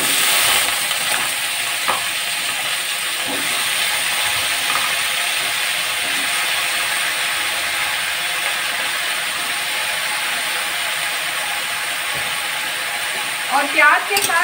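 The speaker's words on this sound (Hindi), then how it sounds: "प्याज के साथ अच्छी तरह से मूंगा फली को बैगन को फ्राई कर लूंगी" Brinjal and peanuts frying with browned onion in a pan over high flame, a steady close sizzle with occasional scraping stirs and a cluster of clinks near the end.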